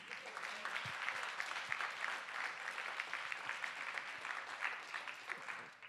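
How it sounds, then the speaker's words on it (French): Audience clapping steadily at a big band school concert, a dense, even wash of applause that holds for several seconds from a moderate distance. "j'aimerais qu'on applaudisse bien fort"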